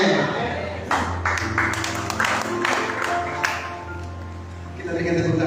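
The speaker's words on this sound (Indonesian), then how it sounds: "Kita berikan tepuk tangan kepada Tuhan." A congregation at an evangelistic worship service claps together in bursts under a loudspeaker voice and ringing music, the hand claps moderately loud and rhythmic as talk and a sustained tone continue beneath.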